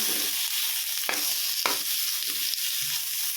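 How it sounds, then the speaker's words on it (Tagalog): Pork stirred in hot oil left over from frying eggplant, a steady close sizzle with a few sharp scraping clicks of the utensil against the pan and no talking. "Dito sa ating pinagprituhan ng talong, ilagay na natin yung pork. Halu-haluin lang natin."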